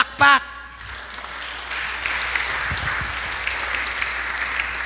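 A church congregation applauds during a sermon, a short burst of speech at the start giving way to steady, sustained clapping from a crowd in a large room.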